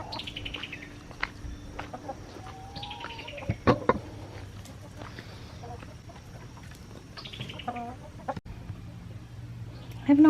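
Hens squabble over a favorite nest box in a coop, with repeated clucks and short squawks at close to middle distance over a low background hum.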